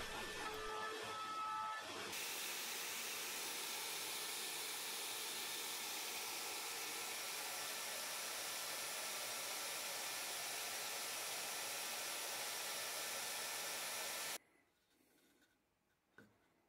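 A Shaper Origin handheld CNC router milling finger joints in wood makes a loud, steady high-pitched whine with a broad hissing roar, running for about twelve seconds before cutting off to near silence.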